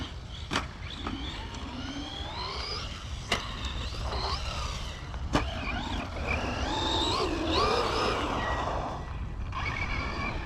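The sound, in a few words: Traxxas Rustler 4x4 RC car with BL2S Big Block 2400kv motor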